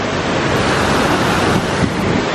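A waterfall near Jackson Hole, Wyoming roars as a loud, dense, constant rush of water close to the microphone, with wind buffeting mixed in and no talk.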